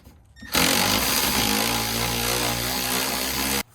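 Impact gun spinning off a 17 mm bolt with a deep socket from a BMW E9X rear shock absorber, a loud continuous buzzing whir lasting about three seconds, starting and stopping abruptly, close up.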